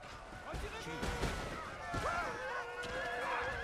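A horse whinnies in the battle game Empire: Total War as an axe cuts it down, shrill neighs rising over a dense din of combat while someone talks over it.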